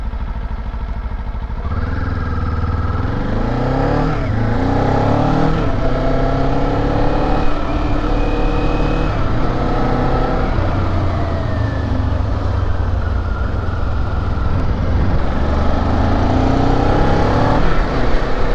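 A Kawasaki Z500 motorcycle accelerates hard while ridden, the engine note rising through the revs in repeated climbing sweeps, loud and close throughout with steady wind and road noise and no talk.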